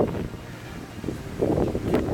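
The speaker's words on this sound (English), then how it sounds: "you can probably hear the gust of winds that are starting to pick up now" Wind gusts on open hillside near Beacon Hill on the South Downs Way, a steady rumbling buffet against the microphone that swells louder toward the end.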